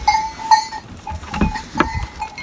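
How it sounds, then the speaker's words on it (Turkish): A flock of crossbred and merino sheep bleats in a shepherd's pen, the calls fairly faint and spread across the scene. Soft tonal ringing, like a bell, sounds between the bleats. "Genellikle kırma koyunlar, mernos."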